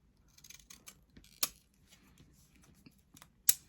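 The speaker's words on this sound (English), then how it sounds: "my scissors want to keep sticking" Scissors slicing through paper to cut out handmade stamps, the blades prone to sticking, giving a couple of sharp, close snips separated by quiet rustling.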